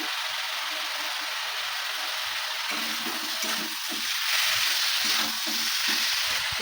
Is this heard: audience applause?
no